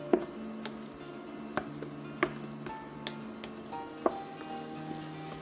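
Spicy okra curry, vendakkai kara kuzhambu, is stirred in a pan with a soft continuous sizzle, punctuated by several light scraping clicks of a spoon against the pan, quiet and close.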